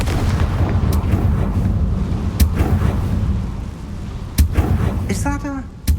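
A Confringo fire spell from Hogwarts Legacy is cast with sharp, explosive bursts near 2.4 s, 4.4 s and 6 s over a steady rumbling game ambience. A short whooshing, crackling flourish comes just before the end.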